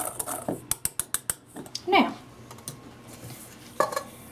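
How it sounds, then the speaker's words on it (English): Batter for sweet potato brownies, made with potato starch and date sugar, stirred in a bowl: a quick run of sharp utensil clinks against the bowl, then softer scraping, with a person talking over parts of it. "And while I'm stirring this"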